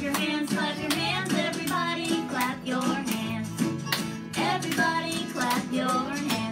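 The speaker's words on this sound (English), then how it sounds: "Everybody, clap your hands." Steady claps beat along with a cheerful children's action song, a regular pulse of hands striking under singing and instrumental backing.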